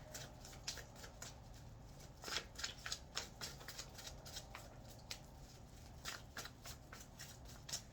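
Playing cards handled and drawn from a deck, three pulled in turn; quiet, crisp slides and flicks in irregular bursts, close by, with no talk.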